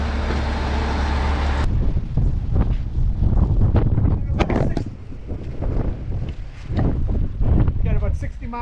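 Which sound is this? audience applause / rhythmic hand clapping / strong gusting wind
strong gusting wind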